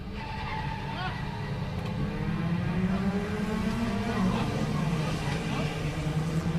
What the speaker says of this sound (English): Look at this grid. It's lovely to see 17 cars together.